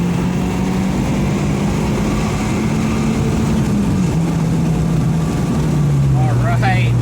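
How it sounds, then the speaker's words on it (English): A Mazdaspeed 3 engine pulling at wide open throttle in third gear toward redline, a steady loud in-cabin drone with a rising tone, while someone talks over it. "So we get into third, here we go. Hitting the button, wide open throttle."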